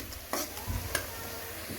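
Bitter gourd (karela) frying in ghee in a pot for karela gosht. A soft, steady sizzle is broken by a few sharp stirring clinks and scrapes, with no talk.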